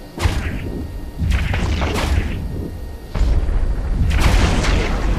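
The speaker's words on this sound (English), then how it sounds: "He's using missiles." Missile strikes on a ship in EVE Online, a run of deep booms and whooshing impacts coming in uneven bursts, fairly loud and close, with no voices over them.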